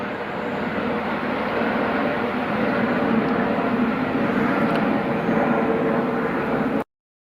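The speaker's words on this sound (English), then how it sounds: "that noise you hear is the helicopter flying over top" Steady, broad engine rumble of a helicopter passing overhead, loud and unbroken for several seconds before cutting off abruptly.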